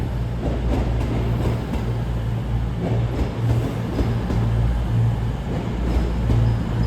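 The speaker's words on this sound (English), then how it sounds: "Driving in now is a cross-country service off to Edinburgh Waverley. Formed as 221130." A CrossCountry Class 221 train bound for Edinburgh Waverley rolls into Darlington station, a steady low rumbling drone with rail noise, fairly close and continuous.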